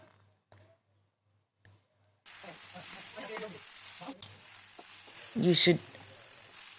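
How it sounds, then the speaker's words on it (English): Brinjal pieces for vangi bath fry on a high flame, a sudden bright sizzle starting after a quiet opening, with stirring scrapes and someone briefly speaking at the start. "fry them in high flame like this. Stir it frequently."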